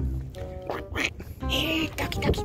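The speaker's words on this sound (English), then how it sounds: "Little ducks." Ducks at a coastal wetland quack in short, fairly close bursts across the stretch, overlapping with some nearby speech.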